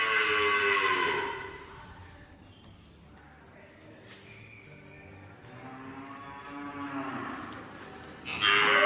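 A pedigree bull on an Indian dairy farm lets out two long, deep moos separated by a quieter stretch, the second rising toward the end.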